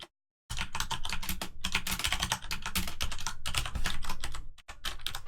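Code is typed on a computer keyboard in rapid, continuous clattering keystrokes close up, after a brief silent start and with a short pause near the end.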